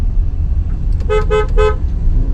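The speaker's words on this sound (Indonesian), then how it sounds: "Nah, klaksonnya tuh berwibawa gitu." Horn of a GAC Aion UT electric car sounds in three short, loud honks in steady rhythm over a constant low road rumble from inside the vehicle.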